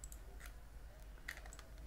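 Computer keyboard keys are pressed during a 3D modelling session in Autodesk, giving a few faint, scattered clicks against a low background hum with no speech.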